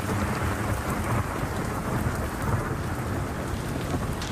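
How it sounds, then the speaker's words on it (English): A thunderstorm pours heavy, steady rain with low thunder rumbling underneath, loud and continuous with no voices. "Lightning, thunder, and of course rain."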